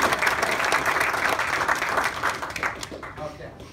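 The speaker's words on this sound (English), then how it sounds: "give a big round of applause for him" An audience at a live-streamed gathering gives a short burst of dense applause that fades out toward the end, with some voices mixed in.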